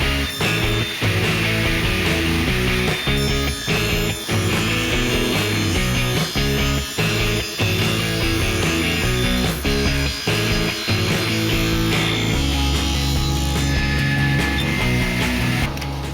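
A saw cuts scrap wood fed with a homemade push block, a loud continuous grinding rasp with rhythmic scraping strokes, close and without talk.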